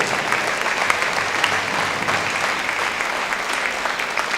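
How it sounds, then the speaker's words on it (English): Audience applause for student athletes at a gala, a continuous, fairly loud patter of many hands clapping with steady intensity throughout. "let's give our student athletes a round of applause for spending their time with the kids"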